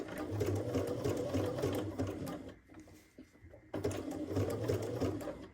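A sewing machine stitches a quilt block with a steady, close whirring rattle, pausing briefly midway before resuming at full speed.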